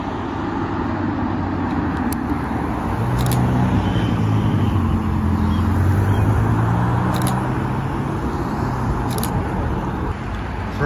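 A Ferrari 612 supercar passes along a street in Alderley Edge, its engine a steady broad roar over continuous traffic noise for about eleven seconds, swelling slightly in the middle as it goes by.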